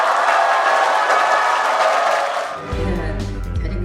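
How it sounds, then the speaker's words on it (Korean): A crowd at a launch ceremony for a national cosmetics franchise association applauds and cheers, loud and sustained, then the texture shifts near the end as a low rumble and other sounds come in. "여러분의 큰 박수와 함성으로"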